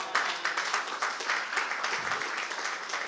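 Congregation applauding in a church, a dense sustained wash of many hands clapping together at a steady level for the whole stretch.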